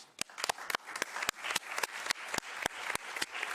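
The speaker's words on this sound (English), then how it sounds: "I'd like to give you an applause for that." A conference audience claps in a sparse, uneven rhythm, the individual hand claps distinct and fairly quiet.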